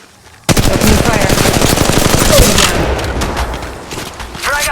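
Rapid automatic gunfire from the mobile video game Apex Legends Mobile, loud and sustained bursts that keep going across the whole stretch after a brief quiet start, with sharp impacts and faint game voice callouts mixed in.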